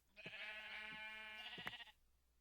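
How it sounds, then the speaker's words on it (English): A single sheep bleat in the video game Minecraft, one close, clear, wavering call lasting just under two seconds and heard alone. "Got some sheep here."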